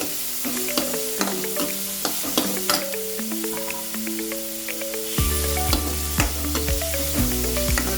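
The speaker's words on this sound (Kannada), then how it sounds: "ಸ್ವಲ್ಪ ಕೆಂಪು ಕಲರ್ ಬರೋವರೆಗೂ ಕ್ಲೀನಾಗಿ ಫ್ರೈ ಮಾಡ್ಕೊಳ್ಳಿ" Sizzling oil in a pan for egg sambar, frying steadily with stirring scrapes, heard under clear melodic background music that grows louder partway through.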